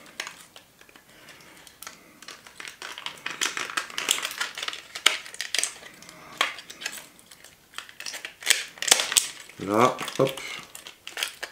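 A small Dumbo keychain is pushed back into its plastic packaging, giving irregular close crinkling and rustling that builds louder toward the end, with a brief spoken interjection.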